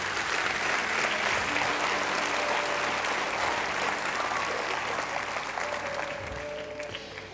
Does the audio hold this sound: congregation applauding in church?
yes